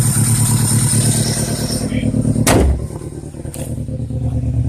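A 2002 Toyota Corolla LE with a bad motor runs roughly, its loud, uneven idle shaking and clattering up close, with a sharp knock or bang partway through; no talking.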